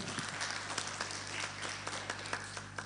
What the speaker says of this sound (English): Shall we clap for him?